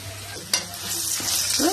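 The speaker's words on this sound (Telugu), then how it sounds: "కాకరకాయలు చక్కగా వేగిపోయినాయండి." Bitter gourd pieces frying in a pan, a close hissing sizzle with a sharp scrape of stirring at the start and another a moment later.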